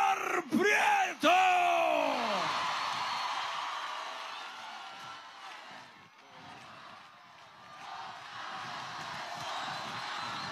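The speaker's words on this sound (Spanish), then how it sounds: "Un fuerte aplauso y una ovación de cariño y amor para Omar Prieto" A large outdoor campaign-closing rally crowd in Maracaibo, Zulia, roars and cheers for Omar Prieto, with a few loud amplified shouts at the start giving way to a sustained, dense wash of crowd noise that slowly rises and falls.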